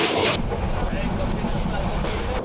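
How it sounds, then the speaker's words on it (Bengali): Kalni Express crossing the Ghorashal bridge on the Dhaka to Sylhet run, a steady loud rumble with faint clatter and wind buffeting, heard from inside the train. "প্রত্যেকটা ব্রিজের মধ্যে যে ট্রেনটা যখন চলে তখন অনেক বেশি নয়েজ হয়"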